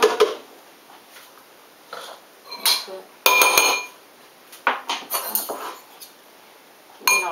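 A vegan raw curry of zucchini and mushrooms is stirred in a dish, with bursts of utensil scraping and clinking against the bowl, irregular and close, separated by quiet pauses.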